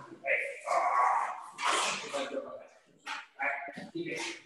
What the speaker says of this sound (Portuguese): Eu só vou tirar meu cachorro aqui, que está atrapalhando a meditação aqui.